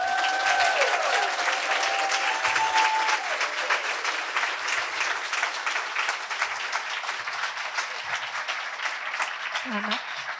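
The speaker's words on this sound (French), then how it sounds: "donner une bonne main d'applaudissement à toutes celles qui vont monter sur scène ce soir" A crowd at a women's open-mic arts evening applauds steadily and loudly for the performers about to take the stage, with a few faint voices over the sustained clapping.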